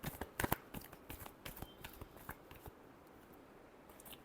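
Tarot cards being shuffled by hand, a burst of crisp riffling snaps followed by softer, scattered card flicks and slides that fade toward the end, close and quiet, with no speech.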